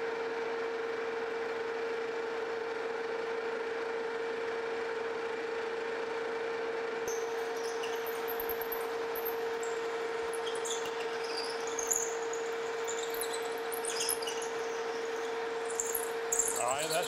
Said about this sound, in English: Now we're going to come in with a 3/8 inch drill to kind of start the hole.